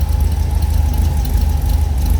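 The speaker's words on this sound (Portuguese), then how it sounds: "Deixa eu esquentar um pouco aí, ó, tá em 800, mas o motor tá frio." A cold VW Fusca engine fitted with dual Solex 34 carburetors idles at about 800 rpm, a loud, steady, low rhythmic chugging with a faint whine above it and no talk.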